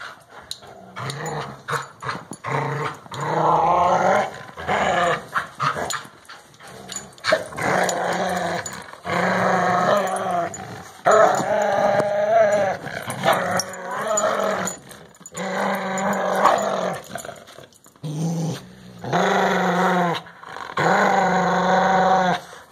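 Pit bulls play fighting, growling and snarling in repeated loud bursts with brief pauses over about twenty seconds, close by, with occasional whimpers and a person talking softly between bouts.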